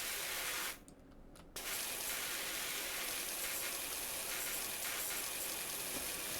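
Pressure washer in PowerWash Simulator sprays in a continuous loud hiss, cutting out briefly for about a second before resuming steadily with a focused nozzle.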